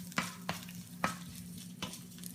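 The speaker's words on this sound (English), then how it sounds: "As you can see, it's nice and sizzling now." Brussels sprouts sizzle steadily in a hot pan, with a few sharp scraping stirs cutting through the constant crackle; no talking.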